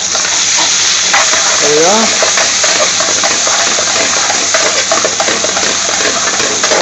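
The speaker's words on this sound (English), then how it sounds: "Now this is adding the chopped onions." Chopped onions go into hot oil with golden-browned garlic for a Bangladeshi aloo bhaji curry, giving a loud, steady sizzle and frying crackle with brief stirring scrapes, while a voice speaks briefly over it.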